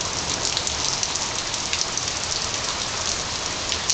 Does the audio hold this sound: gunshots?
no